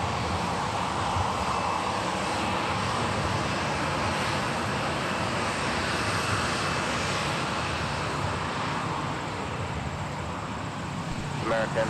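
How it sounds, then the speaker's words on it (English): A Prime Air Boeing 737 converted freighter taxis on an airport taxiway, its engines giving a steady, moderately loud broadband rumble and whine that holds evenly throughout with no distinct events. "Prime Air with the 737 Boeing converted freighter on taxiway Whiskey."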